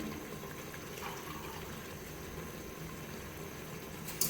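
Water poured into a pot of rice for chicken biryani: a steady, continuous splashing gush, close and even in level throughout, ending with a small clatter.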